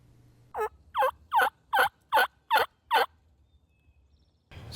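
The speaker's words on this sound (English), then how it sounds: "I started hearing a hen clucking out in front of me" A wild turkey hen clucks seven times in an even, steady series of short, bright calls, fairly close and loud against a quiet outdoor background, then stops.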